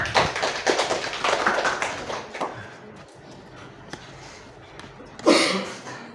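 Scattered clapping from a small group, loose and uneven, dies down after a couple of seconds, followed by quiet room noise and a brief later burst.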